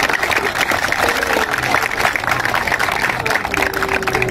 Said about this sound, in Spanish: Señores, regálame un aplausito para hacerlo con fuerza